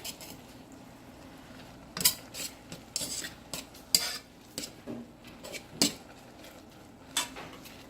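Noodles are stirred in a bowl with a utensil, making a close, irregular series of clinks and scrapes against the dish over a quiet background, with no talking.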